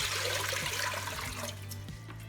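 Four cups of water pour into a cooking pot for brown rice, a steady, continuous rushing splash that stays even and close throughout, with no talking.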